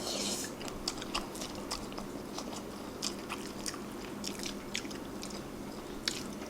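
Cold jjolmyeon noodles eaten at close range in a mukbang: soft wet chewing, slurping and crunchy bites over a faint background murmur, with no clear speech.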